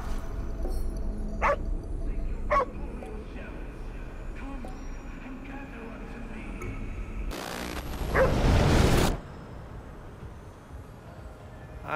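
A dog in the video game Ghostwire Tokyo gives a few short, separate barks over quiet ambience, followed by a brief louder burst of noise near the end.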